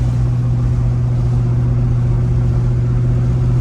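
A 1970 Pontiac LeMans engine drones steadily from inside the moving car, a loud low hum holding constant throughout with no voices.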